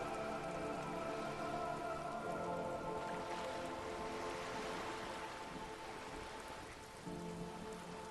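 Rain in the video game Disco Elysium, a steady soft hiss of rainfall on surfaces with low ambient tones underneath, constant and fairly faint, with no voices.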